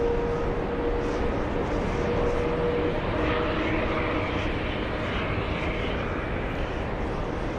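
An airplane heard from an airport lounge, a loud steady engine roar filling the whole stretch with a faint tonal whine, and no talk over it.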